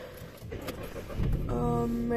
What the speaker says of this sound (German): ich bin jetzt im Auto und werde jetzt schnell losfahren